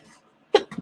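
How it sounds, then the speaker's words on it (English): A single abrupt sneeze bursts out after a near-silent pause, close and fairly loud, followed by a brief breathy tail. "I have a sneeze."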